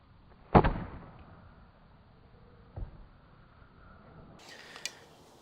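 A Legend longbow is shot outdoors: a sharp loud release thump, then a fainter distant impact a couple of seconds later, followed by a brief higher rattle near the end.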